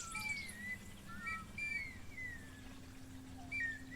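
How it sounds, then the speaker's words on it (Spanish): Clay whistles, ocarinas and a reed flute trill and warble like birdsong, with several overlapping high chirping calls over a low steady hum, soft and sparse. "estas aves son los silbatos, las ocarinas y la flauta carrizo"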